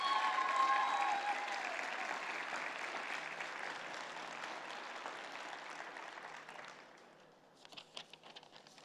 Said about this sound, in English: Seniors, please give a huge round of applause to your staff,